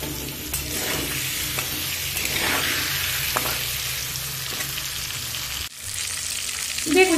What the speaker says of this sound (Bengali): ওই তেলের মধ্যে আলুগুলো দিয়ে লবণ আর হলুদ দিয়ে আমি আলুটা ভেজে নেব